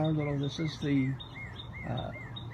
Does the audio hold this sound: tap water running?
no